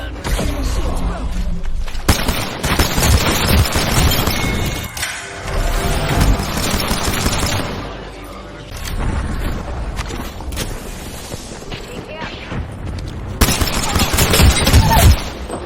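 Gunfire in the video game Apex Legends, loud rapid bursts and crashing impacts that go on through the whole stretch, with brief lulls and players' voices talking over it.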